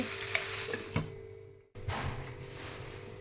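Spicy chicken chukka sizzles in a pan with a soft, crackling hiss and a few stirring scrapes. The sizzle briefly drops out to near silence, then returns at a lower level, as if the lid were put back on.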